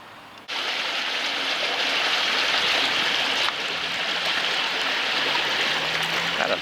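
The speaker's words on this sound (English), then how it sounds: "next to the River Meon." The River Meon streams steadily past a pub garden beside a church green in Meonstoke, South Downs, a close, continuous rushing wash that starts abruptly and holds evenly throughout, with no voices.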